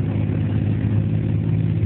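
A diesel pulling tractor with a big turbo running about 100 psi boost, heard as a steady, fairly distant low engine drone at a tractor pulling event.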